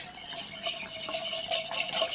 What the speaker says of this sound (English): So give that a bit of a stir until it's even before adding the last 1 3/4 cups of soy